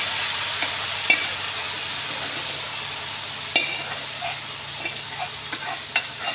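Tempering added to frying taro (arbi) curry with potatoes in a pan: a steady hiss of oil with scattered clinks and stirring scrapes, close and moderately loud.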